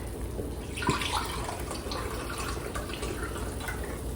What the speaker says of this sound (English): And then you're going to want your 2 cups of chicken broth.